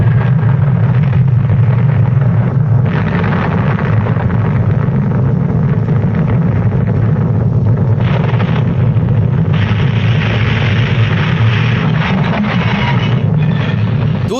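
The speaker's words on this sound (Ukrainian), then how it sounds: "було проведено 100 наземних ядерних вибухів." A ground-level nuclear test explosion arrives as a sustained, heavy roar, dense and unbroken for many seconds and thick with deep rumble throughout.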